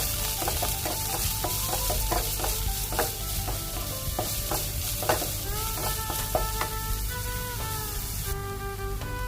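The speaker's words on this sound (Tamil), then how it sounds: "நம்ம அதில் சின்ன வெங்காயமும் பச்சை மிளகும் போட்டுக்கலாம். இது நல்லா வதங்கட்டும்." Small shallots and green chillies frying in hot oil, a loud close sizzle broken by repeated clattering stirs of a metal spoon against the pan, continuous throughout with no talking.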